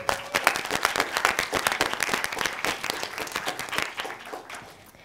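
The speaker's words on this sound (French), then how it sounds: "On peut applaudir." Conference audience applauding in a hall, brisk individual claps blending into a lively burst that tapers off toward the end.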